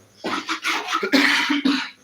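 A close, loud burst of several harsh coughs in quick succession, with no talking.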